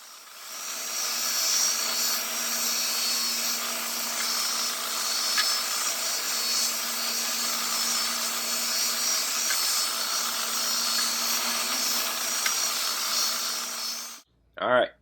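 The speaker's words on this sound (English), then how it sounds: "the best tool for this job is a drum sander" A drum sander works a wooden wedge in a shop with a steady, loud motor whine and broadband sanding hiss, holding constant for about fourteen seconds before cutting off abruptly.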